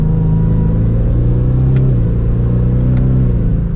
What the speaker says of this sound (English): Give it a small acceleration from third gear here.